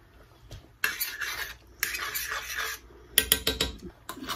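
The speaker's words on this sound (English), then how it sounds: "I'll just take my fork and just kind of stir it around a little bit" A fork stirs boiling gravy in a pan, producing bursts of scraping and clinking against the metal separated by quiet pauses, up close and with no voices.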